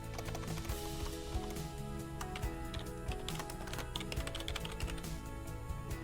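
Steady, fast clacking of keys on a computer keyboard, close and continuous with many small overlapping taps and no voices.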